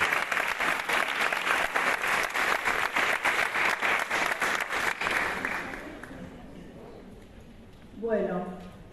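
Strong applause from a university audience at an International Nurses' Day event welcoming the closing speaker, rhythmic and full for about five seconds before fading out, followed by a voice starting to speak.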